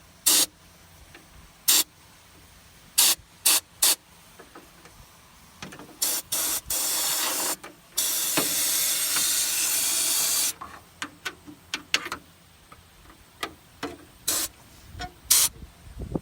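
Rust-proofing spray is blasted into a double-panel seam on a car, short loud hissing bursts alternating with a few longer sustained sprays and brief pauses, close by with no talking.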